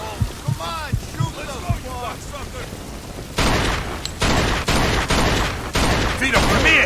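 Gunfire in a Mafia 2 shootout: a shouting voice and thumps at first, then a sustained heavy volley of loud shots that fills the rest of the clip.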